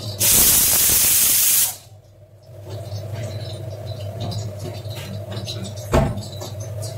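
Mustard seeds and cumin are dropped into hot oil for a dal tempering. A loud burst of hissing spatter gives way to a lower, steady crackling sizzle, with one sharper pop near the end.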